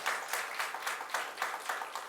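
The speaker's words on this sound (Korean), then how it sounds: "여기 박수 안 치는 사람이 이상한 거예요." A church congregation claps during a Sunday sermon in steady, rhythmic unison, with many hands striking together at a brisk regular beat at moderate loudness and no talking over it.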